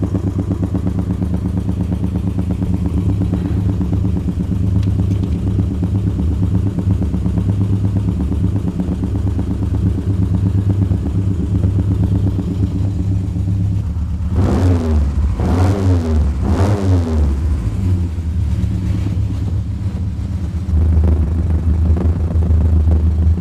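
A 1968 Triumph Spitfire with a new exhaust revs steadily in a strong, continuous drone, then climbs through several sharp throttle blips near the end, heard up close with no talking.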